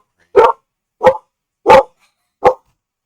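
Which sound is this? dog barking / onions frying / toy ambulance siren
dog barking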